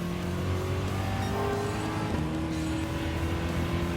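A Ford GT40 Mark 1 '66 with a Windsor V8 in a racing video game, droning at steady high revs with layered engine harmonics that hold a constant tone, loud and close, with no talk over it.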